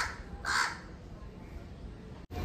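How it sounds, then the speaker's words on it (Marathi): A crow gives a single short, harsh caw at moderate distance outside a home kitchen where fish curry simmers, standing out briefly above a steady background hiss. "हा बघा कावळा असं काव काव करते एकदम"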